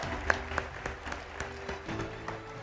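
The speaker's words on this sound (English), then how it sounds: "Ladies and gentlemen, a huge round of applause for Mr. Jay Shah." An audience at the India Business Leader Awards applauds Jay Shah, a steady moderate wash of clapping with a few sharper individual claps standing out, heard at some distance in a large hall.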